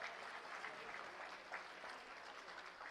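Steady, dense clapping from an audience at a new school block inauguration, an even wash of many hands sustained throughout without pause.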